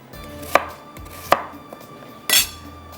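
A knife chops food into small pieces for kofta on a board, giving three sharp, close thuds at irregular intervals with quiet pauses in between.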